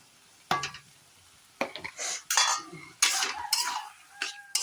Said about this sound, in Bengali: একটু কষিয়ে নেবো মশলাটাকে